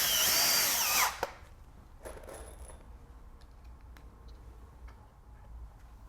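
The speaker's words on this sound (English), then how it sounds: "So, we'll go ahead and sink a couple of screws here." A power drill drives screws into pallet wood while building a smokehouse, a loud whirring burst followed by a sharp tick and faint scattered clicks and knocks.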